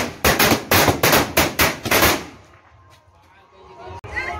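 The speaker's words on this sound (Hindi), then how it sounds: "तो हम लोग अभी फटाका उड़ा लिए हैं" A string of firecrackers goes off outdoors during a Chhath Puja celebration, about eight sharp, loud bangs in quick succession. Quieter background noise and a single faint crack follow.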